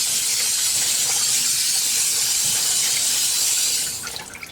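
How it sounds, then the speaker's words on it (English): Steady broadband hiss of water spraying to rinse grease off an engine cover on a 1976 GMC Sprint, continuous and close, tapering off at the end. "Rinse it off some."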